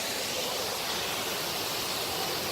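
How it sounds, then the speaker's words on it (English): A waterfall on a backpacking trail roars as a steady, hissing wash of falling water, even and unbroken, with no voices. "We made it to the next waterfall."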